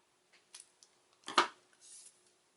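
Scissors snipping off part of a paper cardstock stem for a Halloween pop-up card, a few faint close clicks and then one sharper cut, quiet and with no talking.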